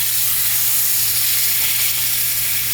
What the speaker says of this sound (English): You wanna allow it to sear for at least 30 seconds to a minute on each side.